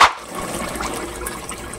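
Tap water runs steadily over a pressure cooker for a quick release after cooking galunggong sardines, a continuous close rushing splash that starts with a brief burst.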